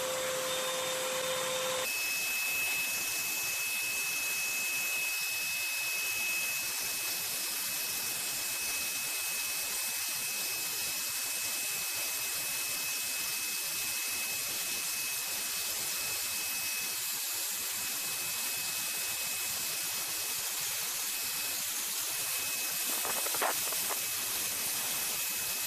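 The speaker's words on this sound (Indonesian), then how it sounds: "Biarkan vakumnya hidup sekitar 2-3 menit." A household vacuum cleaner runs steadily for the whole stretch, with a continuous even motor hiss and whine at constant loudness and no voices.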